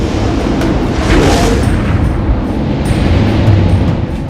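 Meteorite airburst explosion over the Abruzzo Mountains, a loud sustained rumbling roar that stays dense and heavy throughout without a sharp onset, like a distant thunderous blast rolling on.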